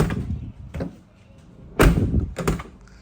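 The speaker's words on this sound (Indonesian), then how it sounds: "Tutupan pintu masih jelek, enak banget ya" Door of a 2007 Isuzu Panther LS Turbo being shut, with a couple of softer thuds followed by two solid, close slams, the louder one heavy and booming.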